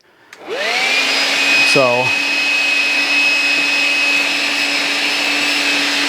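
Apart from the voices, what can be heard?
Milwaukee M12 cordless vacuum vacuuming debris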